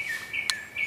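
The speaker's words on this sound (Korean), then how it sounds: "이 길에서 앉아서 너무 새소리 지금 들리시죠?" Birds in a forest walking path sing in a brief, clear, high chirping call, a sustained whistled tone with a short sharp chirp midway, close and alone without talk.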